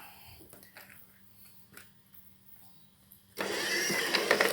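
Motors driving a Raspberry Pi robot cart that follows a person to deliver packages: faint whirring and clicks at first, then a sudden loud steady motor roar that holds to the end, with no speech.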